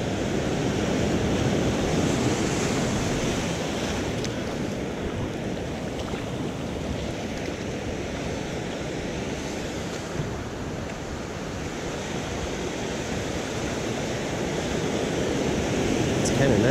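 Ocean surf washing continuously onto a beach, a steady broadband roar of breaking waves with some wind noise on the microphone, loud and close throughout with no talking.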